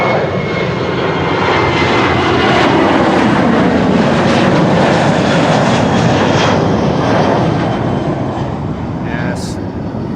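A narrow-body jet airliner at Amsterdam Schiphol Airport roars loudly and steadily throughout, a broad continuous engine rumble with a faint voice briefly underneath.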